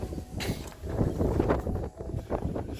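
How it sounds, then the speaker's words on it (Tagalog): Gusty wind buffets the microphone in rough, rumbling bursts, loud and close, with no clear voices. "Malakas ang hangin."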